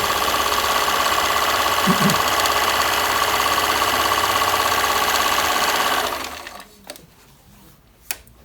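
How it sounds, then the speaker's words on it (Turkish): A Bernina 730 sewing machine runs a wide zigzag stitch with a loud, steady mechanical whirr for about six seconds. It then winds down and stops, leaving a few faint clicks and a sharp tap near the end. "Büyük düğmeyi dıştakini dörde alırsak makine bize en geniş zikzak yapacak."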